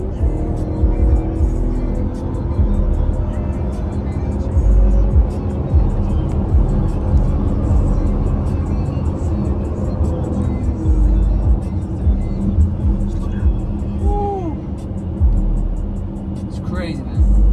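A BMW X6 races another car on the road, heard from inside as a loud, steady engine rumble with road noise and a few revving surges; people talk over it.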